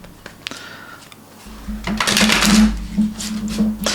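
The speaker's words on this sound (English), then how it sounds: "Let's just shuffle the deck again." A deck of cards, used for a psychic reading, is shuffled by hand. A soft, quick riffling flutter builds over a low steady hum and runs for a couple of seconds, close up.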